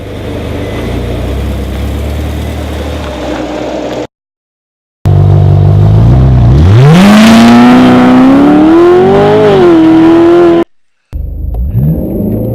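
A Ferrari California accelerates hard from a standstill to 60 mph, its engine note climbing loud and close, with brief silent breaks between bursts.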